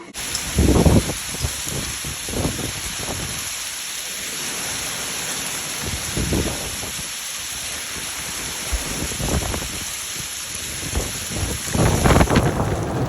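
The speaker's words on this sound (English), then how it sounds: "we rarely get hail that size. That's huge for us." Large hail hammering down in a storm, a steady dense roar of impacts with heavier bursts and rumbling swells, loud and close, with no talking.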